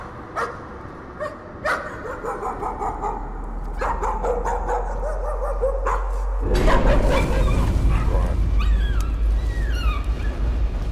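A dog in the horror video game Layers of Fear barks repeatedly in sharp, loud yips and whimpers, the bursts spaced irregularly over a low droning game ambience that swells partway through.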